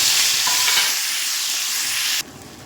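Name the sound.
nigella seeds and green chillies tempering in hot oil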